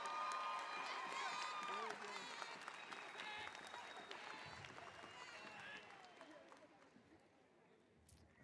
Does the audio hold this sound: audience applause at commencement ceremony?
yes